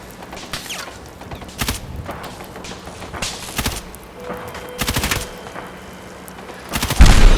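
Gunfire and impacts in the video game Fallout 4, several sharp loud shots and bursts scattered across the clip with thuds, ending in a heavier blast.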